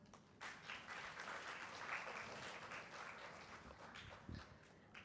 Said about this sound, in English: let's welcome all the dignitaries over the desk by giving a big round of applause